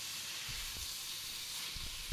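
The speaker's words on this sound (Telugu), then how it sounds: "ఆనియన్స్ మనం ఎలా అయితే ఫ్రై చేస్తామో అలాగే ఈ క్యారెట్ తురుమును కూడా మనం బాగా ఫ్రై చేద్దాము" Grated carrot frying in a pan, a steady close hissing sizzle with a few soft stirring knocks and a sharp clunk at the end.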